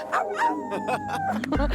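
Sled dogs at a camp on top of a glacier in Alaska bark and yip in quick, close bursts with whining between them, over a steady low rumble.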